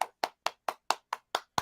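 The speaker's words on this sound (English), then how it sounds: "Do you give him some claps, some sound effects?" Eight sharp hand claps in a steady, even rhythm, close and crisp, each a short bright burst with silence between, used as a sound effect.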